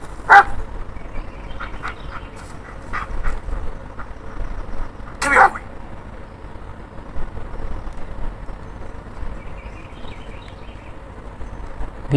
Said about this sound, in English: We can pet our dog.